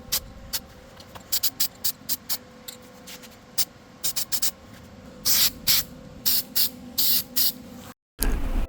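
Steel It coating sprayed from an aerosol can onto axle brackets for a first-gen Sequoia axle swap: a series of short sharp hissing bursts, sparse at first, then longer and denser pulses close up, with a faint steady hum beneath.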